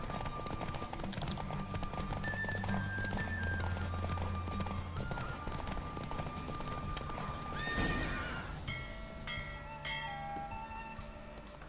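Horse in The Witcher 3: Wild Hunt galloping steadily with rhythmic hoofbeats and loud neighs and whinnies, a dense continuous race scene with game music and effects throughout.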